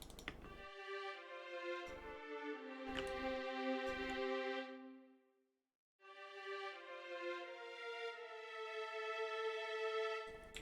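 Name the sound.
beat of drums, violin, pad and bass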